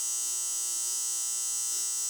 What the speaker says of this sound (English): my dryer's calling me out